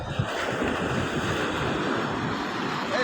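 Sea surf washes steadily onto the shore in a continuous broadband roar, mixed with wind buffeting the microphone, with no speech.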